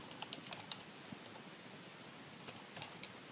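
Faint keyboard typing under a steady hiss of background noise, a few scattered light key taps in small clusters, quiet and somewhat distant.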